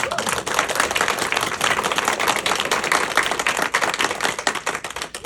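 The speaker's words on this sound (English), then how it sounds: "Can we give another round of applause to Clara?" An audience at a presentation applauds, a dense burst of many hands clapping that stays loud and close throughout.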